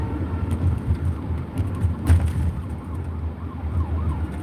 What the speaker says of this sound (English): I pray for that ambulance